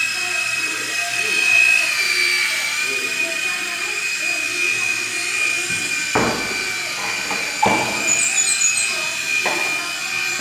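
A remote control mini toy helicopter flying, a thin, high continuous whine with a whirring rotor buzz near the microphone, with a few sharp knocks and a person talking over it.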